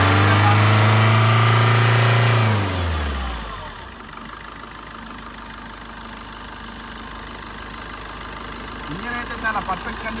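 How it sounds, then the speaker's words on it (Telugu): A 2020 Maruti Swift VDi diesel hatchback with 42,000 km runs loud and close for a few seconds, then its engine note drops and fades to a quieter background hum. "సింగిల్ సెల్ఫ్లో అయితే వెహికల్ స్టార్ట్ అవుతుంది"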